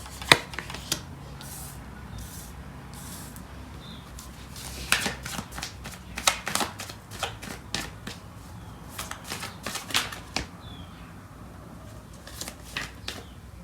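Tarot cards are shuffled by hand close to the microphone in irregular bursts of crisp riffling and slapping, separated by short quiet pauses.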